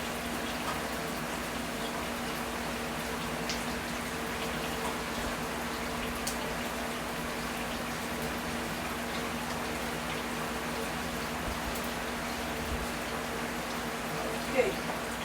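Water running steadily as rice is rinsed to wash out the starch, a soft continuous hiss and patter at low level with no talking over it.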